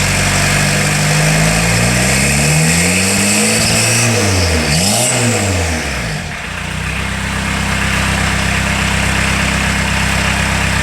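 A 1980 VW Rabbit Caddy turbo diesel fitted with a two-inch exhaust, heard loud and close: it starts up, revs in rising and falling sweeps, then settles into a steady idle.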